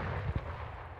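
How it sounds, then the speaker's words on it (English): A battleship turret fires an artillery shell in the Arma 3 video game, a single faint, muffled boom rolling in from far away over a low ambient rumble. "Yeah, battleship's firing with one of its turrets."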